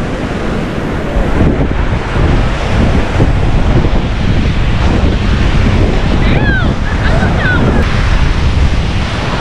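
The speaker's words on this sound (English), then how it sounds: "Sandy beach here in Hawaii. Much more quiet than Waikiki. And the waves here are stronger too." Strong ocean waves at Sandy Beach on the Hawaiian coast make a loud, continuous roar of surf, heavily mixed with gusting wind buffeting the microphone.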